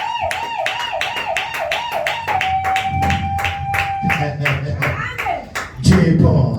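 A church congregation claps in steady, rhythmic unison, loud and close, over a sustained musical tone, with the beat continuing for several seconds.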